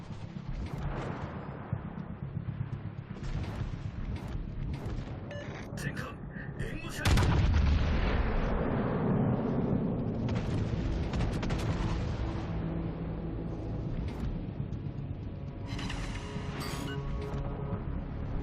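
Warship guns firing in World of Warships, heavy booming salvos and a loud explosive blast midway, with battle rumble continuing under a voice talking throughout.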